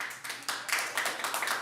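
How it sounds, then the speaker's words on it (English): An audience at an Albany city council special meeting claps briefly, a short ragged patter of hands that swells and fades in a few uneven bursts. "Please refrain from clapping."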